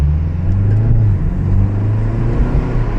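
A BMW 330i G20 engine drones steadily from inside the cabin while driving, with a continuous low-pitched hum and road noise and no clear breaks over the few seconds.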